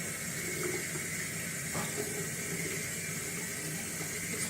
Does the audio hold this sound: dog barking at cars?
no